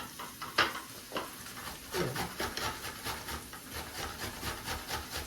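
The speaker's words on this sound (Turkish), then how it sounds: "Şimdi güzel domateslerimi rendeliyorum" Tomatoes rubbed against a grater make rhythmic rasping strokes in a steady back-and-forth pattern, close and moderately loud, with a brief clack early on.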